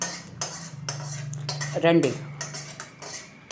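Rice being stirred with a metal utensil against a steel vessel to make pulihora, with a few clinks and scrapes mostly in the middle, over a low steady hum and a brief word of speech.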